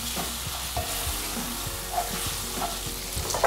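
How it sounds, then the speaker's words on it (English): Spinach is stirred in a hot frying pan for shrimp and spinach bow-tie pasta, giving a steady close sizzle broken by soft scraping stirs and occasional clicks of the utensil against the pan. "Next, I'm going to add the spinach and stirring. I'll just let this wilt for a few seconds"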